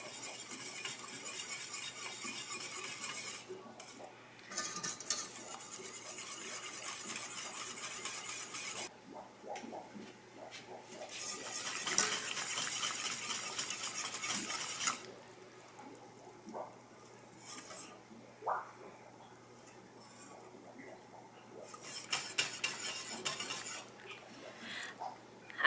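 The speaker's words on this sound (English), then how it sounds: "we're just going to whisk it and heat it on a medium until it's hot" Minty hot chocolate being whisked in a pot on medium heat: a steady run of light metallic clinks and scraping swirls, close and fairly quiet, with short pauses between bursts of stirring.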